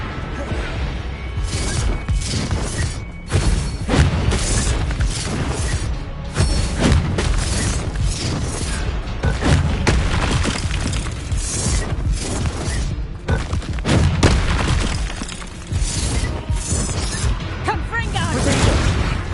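Repeated Confringo blasting-spell explosions in Hogwarts Legacy burst as loud booms and crashes through continuous game combat noise, with a voice speaking intermittently over the chaos.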